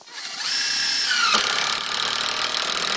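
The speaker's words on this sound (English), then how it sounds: "it's an impact driver, and going into this red oak" A power impact driver whirs up to speed, then shifts into rapid hammering clatter as the screw bites into hard red oak, loud and close.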